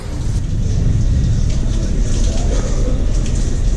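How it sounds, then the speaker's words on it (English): A heavy rainstorm seen from a Princess cruise ship near Mazatlan, Mexico: a loud, steady roar of pouring rain with low rumbling underneath, constant throughout. "It's fun to watch the rain."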